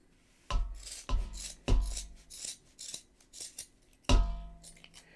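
Scissors snip yarn repeatedly, several crisp sharp cuts with short scraping rasps between them, close up and without talking; the scissors are somewhat dull.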